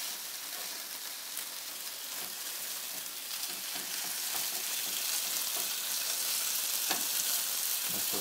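Pork loin for a torta cubana fries in a pan, giving a dense, continuous sizzling hiss that stays loud and even throughout, with occasional small pops.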